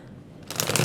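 Tarot cards are shuffled by hand, a quick riffling rustle that starts after a quiet moment and stays close and fairly loud.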